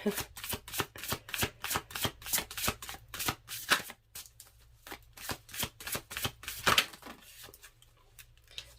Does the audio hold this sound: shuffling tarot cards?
yes